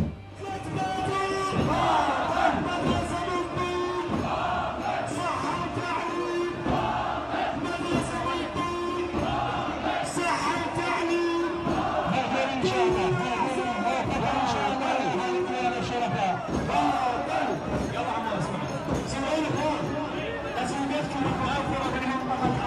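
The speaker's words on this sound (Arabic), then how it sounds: "موكب الحسيني بالديوانية يردد هتافات ضد الأحزاب ويصفها" A Husseini procession in Diwaniyah chants slogans against political parties, many voices shouting in rhythmic unison over a constant crowd roar, with drum-like beats and brief pauses between phrases.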